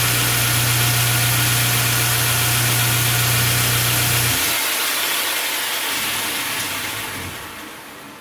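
A 2x72 inch belt grinder fitted with a 36 grit belt runs with a steady loud hum and broadband whir, then the low tone drops out midway and the noise gradually winds down, with no talking.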